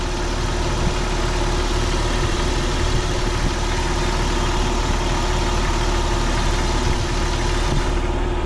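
An older Jeep Cherokee idles steadily with its AC compressor running, giving a loud, constant, close mechanical drone with no speech.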